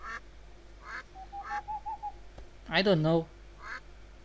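Cartoonish ducks quacking in the mobile game The Sims FreePlay, several short, clear quacks spaced at intervals with one longer, louder honking call, while someone speaks over them.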